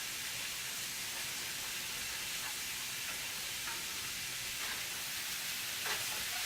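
Green onions fry in a pan, a steady close crackling sizzle with soft hiss running throughout and a few brief louder pops, no voices.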